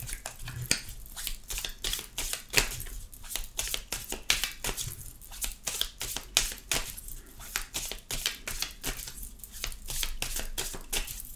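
Tarot cards being shuffled by hand during a reading, a quiet close run of rapid crisp riffling flicks and slaps in irregular bursts, with no talking.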